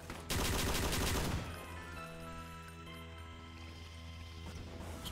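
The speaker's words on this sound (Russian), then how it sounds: "Кто, мать твою, стреляет там" Gunfire in the video game Doom with the Project Brutality mod: a loud rapid burst of shots in the first second, then a ringing tonal hum that fades under quieter background noise.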